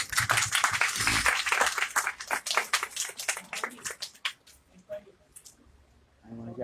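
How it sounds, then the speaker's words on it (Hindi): Audience at a Bhagavata Saptaha devotional gathering clapping along in a dense, steady rhythm of many hands, loud and close, thinning out and fading toward the end. "जोर से बजाओ ताली।"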